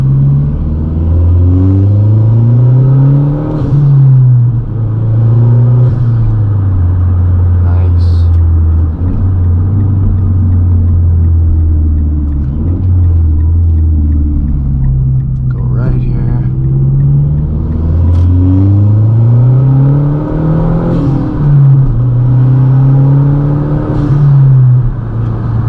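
A tuned 2011 MazdaSpeed3 with a stock engine accelerating hard, its loud rumbling exhaust rising in pitch through repeated gear pulls, heard from inside the car with talking over it.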